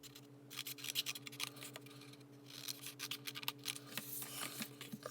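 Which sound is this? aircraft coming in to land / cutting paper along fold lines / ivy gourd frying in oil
cutting paper along fold lines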